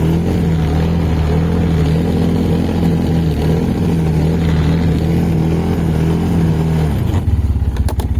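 A Lincon Xwolf 300 ATV backs up through snow with a constant, close engine drone that changes character near the end as the throttle shifts.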